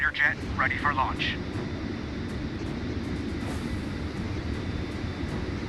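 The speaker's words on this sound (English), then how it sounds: "Fighter jet ready for launch." A Su-57M fighter jet launches from the carrier Admiral Kuznetsov in the naval war game Warships Mobile 2. A short voice line opens, then a steady jet roar rumbles on evenly.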